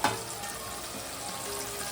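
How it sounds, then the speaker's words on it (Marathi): Bombil (Bombay duck) fish frying in a pan, a steady close sizzle and crackle of hot oil that continues evenly with no talking. "हे बघा स्नेहा आता बोंबील फ्राय करते"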